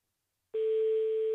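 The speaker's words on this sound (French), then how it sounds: "Troisième sonnerie." A single steady telephone ringback tone sounds on a call, starting after a brief silence and holding clear and even to the end.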